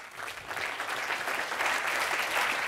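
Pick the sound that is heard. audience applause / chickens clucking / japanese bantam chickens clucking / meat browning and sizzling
audience applause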